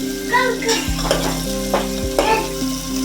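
A spoon stirs tomato tempering with turmeric in a pan, scraping in a few distinct strokes over a steady oil sizzle, close and fairly loud, with a low background hum and no talking.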